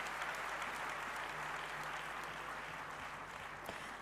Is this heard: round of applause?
yes